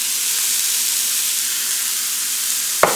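Green chili, beetroot and carrot sauté in a hot pan, giving a steady close sizzle and hiss, with a brief clack of a utensil just at the end.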